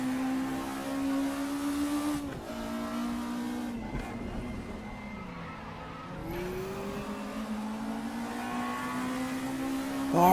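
A VW Scirocco Cup race car in the RaceRoom racing game, engine revving and accelerating with rising pitch, dipping on gear changes and lifts before climbing again, loud and continuous with some tyre squeal.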